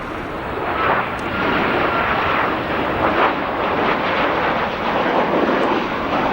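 A Boeing 737 landing at O'Hare airport gives a loud, continuous broadband jet roar that holds steady throughout, heard alone without talk.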